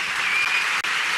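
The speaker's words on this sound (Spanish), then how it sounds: "Un fuerte aplauso" Audience at a short film festival award gala applauding in a continuous, even burst of many hands, with one abrupt dip near the end.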